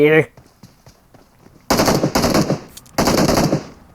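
Automatic gunfire in the mobile battle game PUBG Mobile: two long, loud bursts of rapid shots, each lasting about a second, with someone talking briefly before them.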